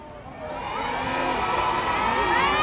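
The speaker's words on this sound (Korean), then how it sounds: "여러분, 지금부터 열렬한 박수와 환호로 끝까지 함께 해주세요." A large crowd at an outdoor K-pop concert during the Guro G-Valley Festival cheers and whoops, the roar swelling slightly louder and staying sustained throughout.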